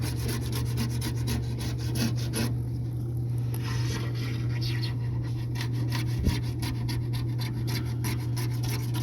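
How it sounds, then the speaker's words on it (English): Glue being scraped off a Subaru WRX car window during window tinting, a steady close rubbing and rasping that runs throughout with a constant low hum underneath. "Probably the worst part about it is sitting there scraping all this glue off"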